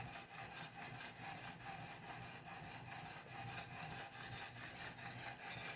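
A knife clamped in a guided sharpening system is drawn over a 400-grit stone, giving a steady rasping scrape in quick back-and-forth strokes, close and continuous with no speech.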